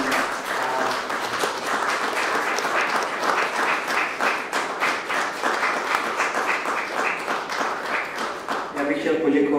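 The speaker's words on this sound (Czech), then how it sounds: "Takže já myslím, že to si zaslouží potlesk." Audience applauding at a Czech church discussion event, a dense sustained wash of clapping from a large room lasting throughout, with a brief tail of talk near the end.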